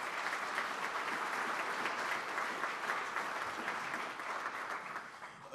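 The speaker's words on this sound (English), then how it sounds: "Let's give them a round of applause." Audience applause at a Diversity and Inclusion Committee recognition ceremony, steady dense clapping from a large crowd that holds loud for several seconds and then begins to taper slightly.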